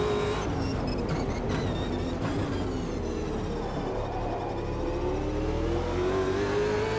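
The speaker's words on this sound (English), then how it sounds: "In the centre of the car, the exhaust burbling and popping on the overrun" Race car engine in Automobilista 2, heard from the centre of the car as it revs and shifts, with the exhaust burbling and popping on the overrun. The sound is loud, continuous and close, with pitch swings and crackles.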